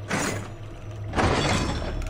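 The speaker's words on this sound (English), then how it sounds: "The spike trap will sound like this" Spike trap in the video game Dark Deception: two harsh, crashing bursts with a metallic shatter, the second louder, over a low droning background.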